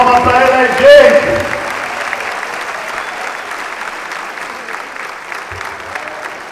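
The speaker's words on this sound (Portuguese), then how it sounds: "uma salva de palmas pra ela" An audience at an Umbanda gathering bursts into dense, loud applause for a woman. A voice rises briefly at the start before the clapping carries on steadily and then slowly thins.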